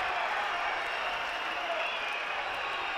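Steady applause from a crowd of district supporters at the Giostra del Saracino jousting tournament, a dense, even wash of clapping heard from a distance with a commentator talking over it.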